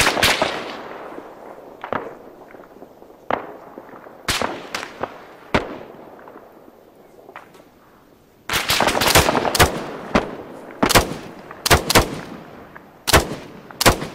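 Incoming gunfire during a skirmish in a first-person shooter, a steady stream of loud, sharp shots and short bursts over a rumbling background, growing denser partway through, with no voices.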